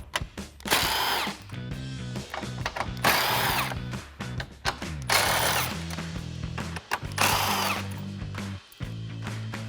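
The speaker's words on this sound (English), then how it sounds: "I'm switching over to an impact gun and a deep socket, so let's get those off" An impact gun with a deep socket spins out 10mm bolts from the grille of a 2014-2015 Silverado 1500, delivering four loud close bursts of rattling, whining power-tool noise separated by short pauses.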